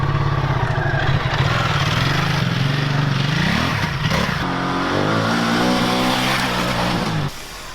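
A Ducati Multistrada 1260 Enduro motorcycle engine is held at full throttle with traction control set mid-range, a loud close roar rising and falling in pitch through gear changes before easing off near the end.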